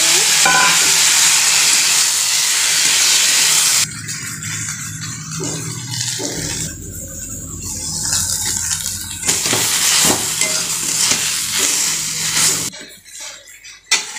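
Taro (kochur mukhi) curry cooking in a pan on a home stove, a loud steady sizzle with stirring scrapes that drops off partway and resumes more softly, with bursts of clattering.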